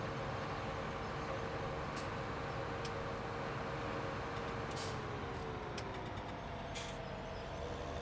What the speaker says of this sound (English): Oh, a lot of traffic here this morning on Gold Crest.